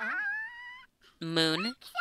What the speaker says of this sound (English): Okay, that's a dog.